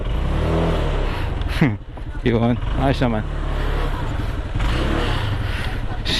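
A delivery rider's motorcycle engine runs with a steady low rumble throughout, close by, while people talk over it.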